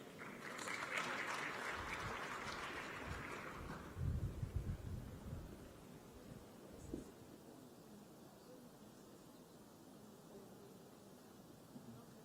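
Audience applause after a conversation session with Sophia the Robot and a minister, a dense clapping burst over the first four seconds that then tails off into scattered claps and room murmur.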